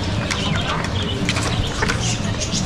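Busy market bustle in Mérida, Mexico, with chickens clucking and chattering throughout, mixed with crowd murmur and scattered voices, fairly loud and close.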